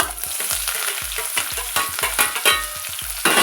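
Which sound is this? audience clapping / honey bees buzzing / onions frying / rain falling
onions frying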